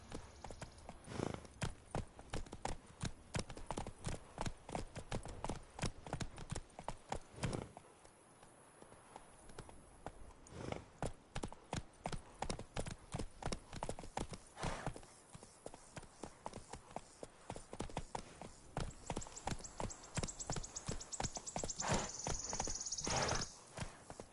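Roach, a horse in the video game Witcher 3, gallops with a rapid, steady clip-clop of hooves that runs nearly unbroken, close and clear, pausing briefly before resuming.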